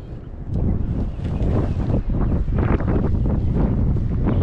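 Wind buffets the microphone on a kayak out on the water, a loud low rumbling gust that rises after the first half second and stays strong, with no talk.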